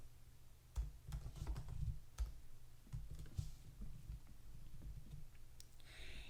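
Keys clack on a computer keyboard in short, quiet bursts of scattered clicks and taps, with brief pauses between groups of keystrokes.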